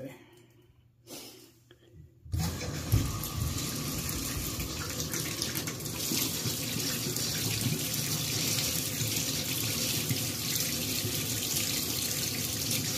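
A motel bathroom tap opens after a quiet moment and then runs in a steady, close, continuous stream of hot water that fills the rest of the clip, with faint breathing in the background.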